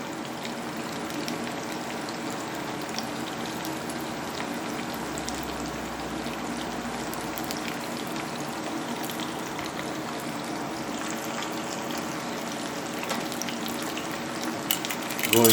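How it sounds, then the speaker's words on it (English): Chicken pieces in a cream of mushroom chicken recipe frying in a pan over medium-low to medium heat, giving a steady, dense crackling sizzle that runs throughout without talk. "So look at that nice, beautiful sizzle"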